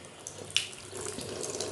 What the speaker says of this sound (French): utilisez le mouchoir pour fermer le robinet